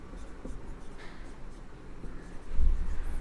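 Chalk or marker scratching across a board during a chemistry lesson, in soft intermittent strokes, with a thump near the end and no talk.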